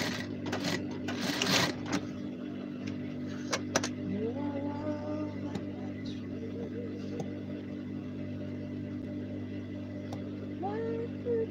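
A sewing machine runs a flat stitch while uniform pieces are sewn, with a quick burst of rapid mechanical stitching up close, then a quieter hum and light clicks as fabric is handled.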